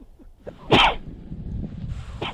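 A single sharp sneeze bursts out in a quiet room, preceded by a short inhale and followed by faint rustling.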